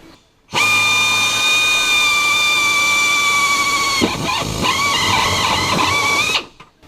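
A power drill whines steadily and loudly for several seconds, the pitch dipping and shifting as the step bit cuts through a late-model GM pickup's floor, then stopping abruptly.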